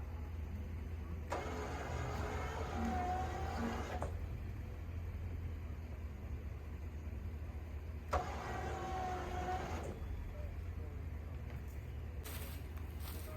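A winch hauls a large boulder through a pulley rig, its motor whining in two long pulls of a few seconds each, separated by a quiet pause with a steady low engine hum underneath.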